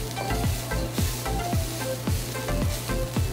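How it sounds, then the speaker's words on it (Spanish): Rice frying in a pan with pork belly crackling and Chinese onion, a loud continuous sizzle broken by regular rhythmic stirring scrapes about every half second, close up with no voices. "El arroz se va a freír con el chicharrón de panceta y con la cebolla china que ya estamos integrando."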